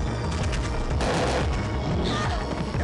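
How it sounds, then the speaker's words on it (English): Rifle gunfire in the survival horror game Parasite Eve 2: a dense, continuous burst of loud shots and booming impacts fills the whole stretch, with no talk over it. "I'm gonna switch to the rifle."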